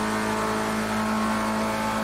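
Race car engine in Project Cars 2, a loud, steady high-revving drone holding a constant pitch throughout, alone with no voices.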